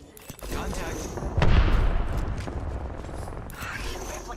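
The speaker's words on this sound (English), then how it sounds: "We're shooting." Rapid gunfire in the Apex Legends video game, with bursts of shots and mechanical weapon clatter, fairly faint under a player talking, a heavier impact partway through.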